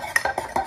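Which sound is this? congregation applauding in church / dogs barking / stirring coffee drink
stirring coffee drink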